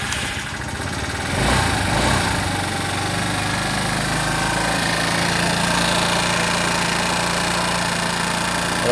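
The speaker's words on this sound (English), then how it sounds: "Well, that idle seems a little bit high to me, but I might just let see if it's the auto choke." A Znen 125 motorbike engine idles steadily and close, a continuous mid-pitched rumble with a slight rise in revs early on before settling into an even, somewhat high idle.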